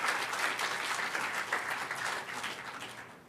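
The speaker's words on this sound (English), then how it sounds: "a big applause for the guys doing that" Applause from a conference audience at a hacker gathering, a moderate, fairly distant patter of many hands clapping evenly for a few seconds, with no speech over it.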